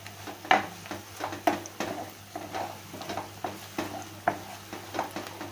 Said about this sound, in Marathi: थोडस आपण परतून घेऊया